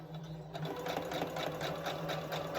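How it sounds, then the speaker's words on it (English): A sewing machine runs steadily at close range during quilting, its rapid rhythmic stitching chatter speeding up slightly after a brief start. "I'll turn the sewing machine there"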